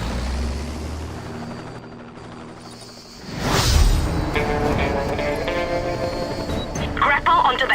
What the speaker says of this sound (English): You will be using our helicopter, which will be piloted by our pilot